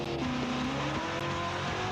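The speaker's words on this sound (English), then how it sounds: "Stokes boiling the tyres in the little Capri." A small Ford Capri running on LPG does a burnout at a drag racing event, engine droning loudly with shifting tones while tyres squeal continuously, close and without talk.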